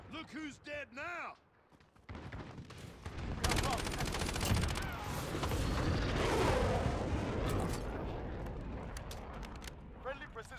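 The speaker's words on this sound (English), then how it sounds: "Friendly precision airstrike on the friendly UAV online." Precision airstrike explosions in the video game Call of Duty: Modern Warfare rumble heavily and continuously after a short stretch of talk, a long loud wash of blasts and booms rolling on for several seconds.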